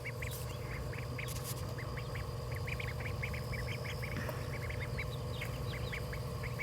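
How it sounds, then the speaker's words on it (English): Ducklings wandering through tall grass and weeds on a small homestead give many soft, quick peeping quacks, scattered and irregular, fairly faint over a steady low background hum. "I have to show you the ducklings."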